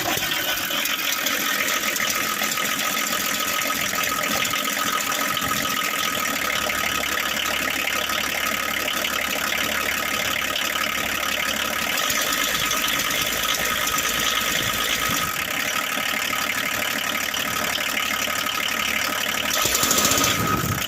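Diesel engine after the glow plug cycle, running steadily and loudly at close range with a knocking, rattling idle and a high belt squeal on top.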